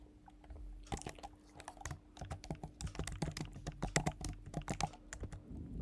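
Rapid, uneven clatter of fingers typing on a laptop keyboard, close and fairly quiet, in bursts of keystrokes with brief pauses and no talking.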